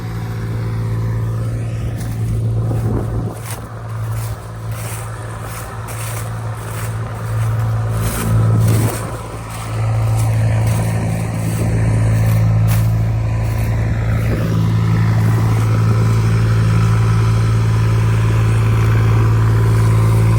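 Close, loud drone of a tractor engine working hard to tow a combine harvester, holding a deep steady rumble with brief dips and surges in load over about twenty seconds, no talking.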